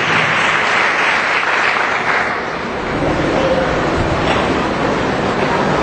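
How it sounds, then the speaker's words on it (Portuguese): A church congregation at a youth congress applauds loudly after the preacher's call, a dense, sustained roar of clapping with no talk. "aplauda bem forte ao Rei do Universo"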